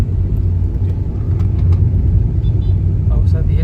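A Maruti Ertiga travels along a quiet rural road, its steady low engine rumble and road noise filling the cabin continuously, with faint scattered clicks above.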